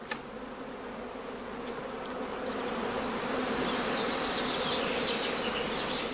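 A dense, steady drone of honey bees buzzing around swarmed straw skeps in Germany, many insects together, swelling slightly louder as it continues with no voices.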